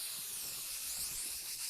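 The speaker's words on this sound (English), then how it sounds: "She introduced me to the Kryolan Fixing Spray." Kryolan fixing spray mists out during a drag makeup routine, a steady close hiss held for under two seconds with no talking.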